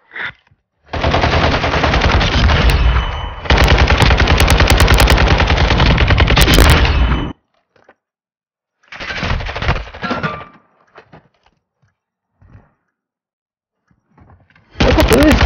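Automatic gunfire in a shooter video game, loud and close: two long sustained bursts, a shorter burst after a pause, then another volley starting at the end, with quiet gaps between.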